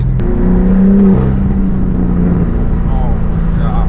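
BMW M4 G82 in sport mode, its engine droning steadily and pulling harder as it builds speed, heard from inside the car as a loud, continuous tone that rises and falls slightly.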